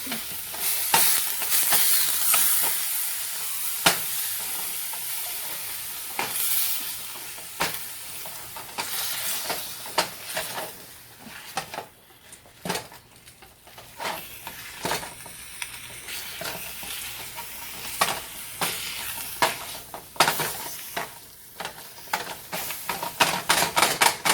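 Ground meat sizzles in a pot on a medium-high burner while a utensil chops and scrapes it, with frequent irregular clacks and stirring scrapes over a constant frying hiss.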